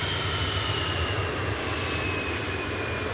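A Cathay Pacific Cargo Boeing 747-8 jet arriving from Los Angeles at DFW Airport roars steadily and loudly, a continuous broadband engine rumble with a faint high whine throughout and no talk.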